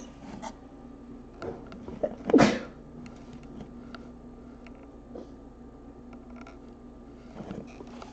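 One abrupt, loud sneeze bursts out in a quiet indoor room, preceded by a short catch of breath, then faint handling noises and a low steady hum.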